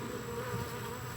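Honeybees drone steadily at an opened hive with an empty honey super added in the middle, a low, even buzz that holds at a fairly quiet level throughout with no voices.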